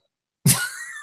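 A single sharp throat clear bursts out close by after silence, a harsh raspy onset that trails into a short rough, breathy rumble.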